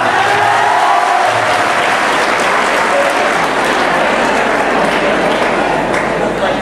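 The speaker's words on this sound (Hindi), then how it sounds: "तो जोरदार तालियां जरा एक बार।" Loud, continuous applause from a big crowd at a school foundation day celebration, a thick unbroken wash of clapping that holds steady for several seconds.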